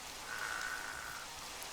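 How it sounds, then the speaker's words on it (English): Steady, even hiss of rain falling in modded Minecraft, a constant wash throughout with a faint brief tone partway through and no talking. "I'm slogging through the rain to find you."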